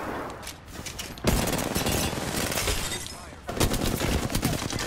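Video game gunfire in a heavy exchange: dense, overlapping rapid shots and automatic bursts, loud and continuous with a brief lull before another close volley.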